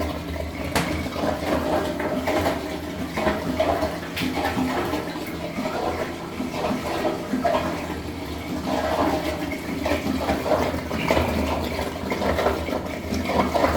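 A heavy, continuous gush of water pours out of apartment floor-heating pipes while they are flushed in a boiler pipe cleaning, a dense, churning splash that stays loud and close throughout.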